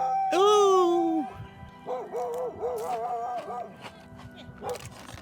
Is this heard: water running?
no